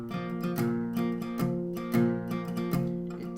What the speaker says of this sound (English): Next part up is the verse, and it's going to sound like this